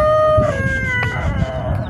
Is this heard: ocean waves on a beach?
no